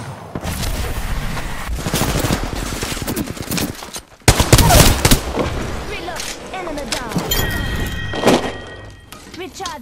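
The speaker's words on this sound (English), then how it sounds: "Opening fire." Video game gunfire crackles in dense bursts and volleys with heavy thumps, loud and close, while a voice talks over the shooting.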